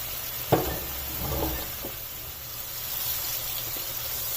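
Whole black peppercorns, cloves, a small cinnamon piece and black cardamom sizzle in hot oil in a cooking pot, a steady close hiss with a few sharp crackles at the start, no voices.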